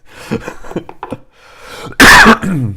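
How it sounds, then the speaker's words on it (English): A single loud, harsh cough bursts out near the microphone, preceded by some quiet indistinct rustling and vocal sounds. "Oh, sorry about that cough there."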